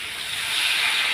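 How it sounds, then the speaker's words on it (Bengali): Water poured into a hot pan of frying chicken kosha, a sharp steady hiss of steam and spatter swelling slightly over about a second. "এখন আমি জল ঢেলে দিই"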